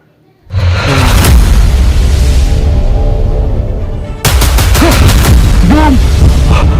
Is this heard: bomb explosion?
yes